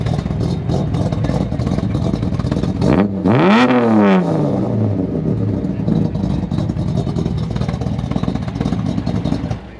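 A 1973 Datsun 240Z engine, about 238 crank horsepower in a 2,300-pound car, idles near, then blips into a loud rising rev and falls back. The car clatters throughout, and someone talks over it.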